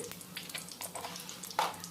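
Bay leaf and whole cumin fry lightly in oil with soft crackles and a few brief sizzling bursts, one sharper pop near the end; fairly quiet and close.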